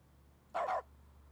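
A small dog barking in the video game The Stanley Parable: Ultra Deluxe, a single short, clear double-yip bark over a quiet low hum.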